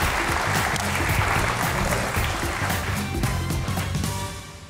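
A studio audience at the Hasna Mana Hai comedy talk show claps loudly and steadily for several seconds, then the applause thins and fades at the end.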